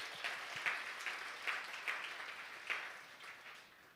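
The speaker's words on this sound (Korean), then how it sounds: "우리 박수 한번 쳐주시고요." A church congregation claps for graduating young people, a faint, distant patter of hands with a few sharper individual claps standing out, gradually tapering off.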